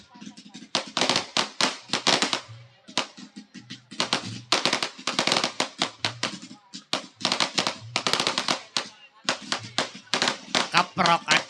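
Firecrackers popping in repeated dense bursts at an outdoor Betawi topeng mask-dance and jaipong entertainment event, loud crackling volleys separated by short pauses, with voices mixed in.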